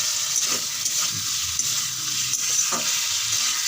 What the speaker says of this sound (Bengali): এবার দিয়ে দেবো ভেজে রাখা আলুগুলো। দিয়ে একটু নেড়ে চেড়ে নেব।